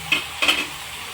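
Onions frying in a pan with a steady sizzle, broken by two quick stirring scrapes close by.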